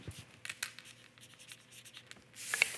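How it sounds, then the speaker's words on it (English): Pen scratching marks onto pattern paper for a seam allowance while sewing leggings, short soft strokes in an uneven rhythm, close and quiet, with a brief brushier rustle at the end. "giving myself some markings for the seam allowance"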